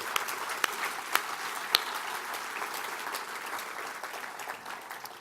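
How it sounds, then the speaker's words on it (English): An audience at a university awards evening applauds with even, continuous clapping at moderate volume, a few sharper individual claps standing out near the start. "give a round of applause"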